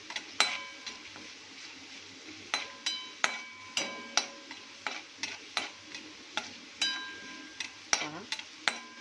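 Garlic, cumin and curry leaves sautéed in a pan, with regular sharp scrapes and taps of a spoon against the metal repeating about once a second over a faint sizzle, close and with no voices.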